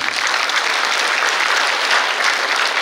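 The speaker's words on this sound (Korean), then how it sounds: "큰 박수 부탁드립니다" Audience applause at a Liberation Day commemoration ceremony, loud, dense and steady clapping from a large crowd throughout.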